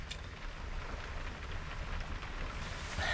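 Steady rain falls outdoors during a storm, with wind and gusts rushing over the microphone in a broad continuous hiss, and no talking.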